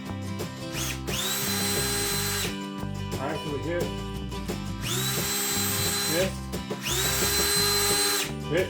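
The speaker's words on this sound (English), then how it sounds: "drill the hole for the eye bolt so the eye bolt goes right through the joist" A power drill whines in repeated high-pitched bursts boring a hole up through a wooden ceiling joist for an eye bolt, with a person talking between and over the drilling up close.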